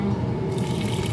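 Tap water pours steadily into a cooking pot for sapsap fish sour soup, a close, loud, continuous gush that brightens in tone partway through as the pot fills.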